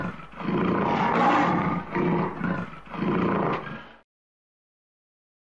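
A lion roars in a series of deep, throaty bursts, about three or four close, loud pulses in a row with a rough growling texture, then falls silent.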